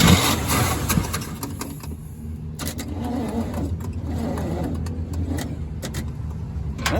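An abandoned farm truck engine cranks and catches, turning over roughly and loudly up close with uneven chugging and sputtering bursts throughout.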